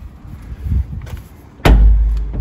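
A commercial steel door in a wraparound frame, fitted on test hinges, swings and closes with a loud, sharp metallic slam, preceded by faint creaks and light handling noise.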